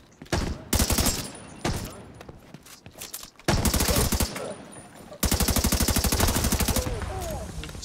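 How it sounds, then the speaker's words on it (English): Bursts of automatic machine gun fire during a gunfight in the video game The Division 2, rapid loud volleys broken by short pauses, then one long sustained burst. "Oh, random gunfight. And a chance to test out the new gun."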